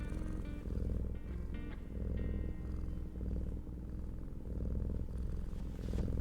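A kitten purring right against the microphone, a loud close rumble that swells and fades with each breath in a slow steady rhythm, no talking.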